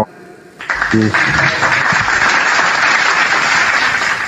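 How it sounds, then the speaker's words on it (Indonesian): A live audience breaks into loud, sustained applause after a brief lull, the clapping building quickly and holding steady, with a short voice heard near the start. "tepuk tangan dulu"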